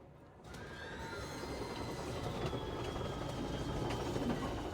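A loud train in the video game Control rumbles along steadily with a dense roar and faint high metallic squeal, building after a brief quiet start and holding constant throughout.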